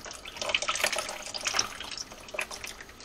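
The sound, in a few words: whey dripping as cheese curds strain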